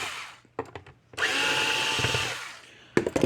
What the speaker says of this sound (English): Let's take the screws out the back.